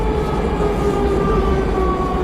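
Subway train in a Russian metro, a steady loud rumble of running wheels and car noise with a drawn-out whining tone throughout, close and continuous with no talk.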